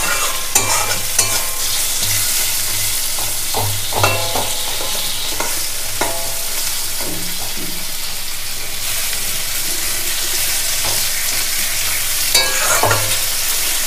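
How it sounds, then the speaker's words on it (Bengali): Spices fry with a loud, constant sizzle in a pan with bitter gourd and potato, broken by regular scrapes and knocks of a spoon stirring. "এই মশলা একটু ভাজা ভাজা হবে।"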